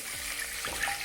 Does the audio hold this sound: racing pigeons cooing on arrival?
no